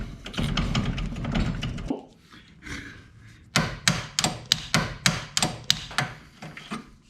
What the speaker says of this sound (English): then we're going to take our impact, make sure it's set to loosen